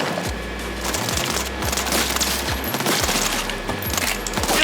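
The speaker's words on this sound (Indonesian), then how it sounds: "Nah, kita belum coba tembak-tembakan kan." Rapid bursts of game gunfire crackle continuously over a low droning engine rumble, loud and dense with no voices.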